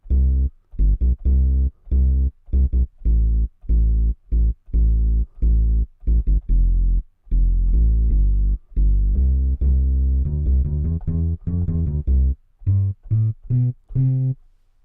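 Deep plucked acoustic bass notes play a melodic line, each note warm and woody with a short decay, steady at first, then quicker runs toward the end.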